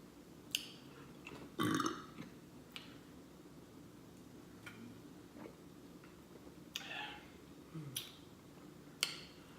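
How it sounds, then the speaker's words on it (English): Several burps after a breakfast-for-dinner meal, one long and loud, then a few shorter ones spaced apart, with faint clicks and small mouth noises between them. "you got a couple of burps"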